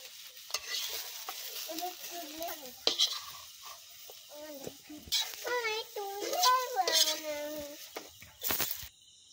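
Potatoes fry in hot oil in a pan at a nighttime outdoor fish picnic, a soft sizzle broken by scraping and clinks as they are stirred and lifted out, with a voice talking over it.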